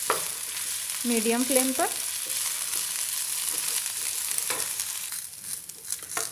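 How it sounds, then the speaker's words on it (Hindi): Potatoes frying in hot oil in a pan over a medium flame, a steady close hiss and sizzle with occasional scrapes from stirring, and someone briefly speaks over it near the start. "तो जैसे ही थोड़ा गर्म हो इसमें आलू डाल देंगे। और इसको हम भून लेंगे"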